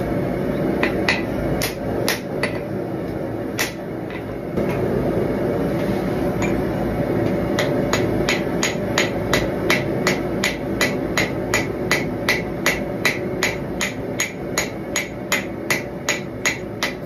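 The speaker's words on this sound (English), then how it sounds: "this hammer is so small, it barely moves material, but it does if you just keep hitting at it" A small cross peen hammer strikes hot steel over and over in a steady rhythm, forging a knife, sharp metallic pings ringing out close against a low background hum.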